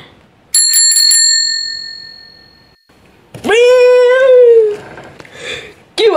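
A bicycle bell on Ville's bike rings in a quick run of bright, close metallic dings that ring out and fade. A voice follows with a drawn-out whining sound.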